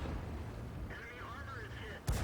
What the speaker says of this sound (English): he's putting the shots right into the side of the hull below the turret